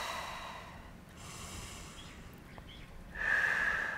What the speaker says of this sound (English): take a couple breaths